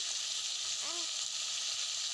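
Tomatoes fry in a hot pan after onions with a steady, hissing sizzle, and a short faint squeak rises briefly partway through.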